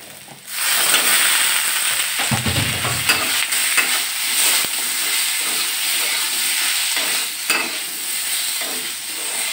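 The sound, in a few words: potatoes being sautéed with browned onions in a pan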